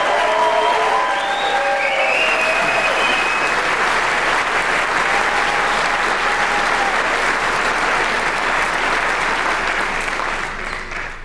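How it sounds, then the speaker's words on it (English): A large audience applauds loudly and steadily at a celebration, dense clapping holding for about ten seconds before tapering slightly at the end. "Let's give one more round of applause for our incredible Warner Rams"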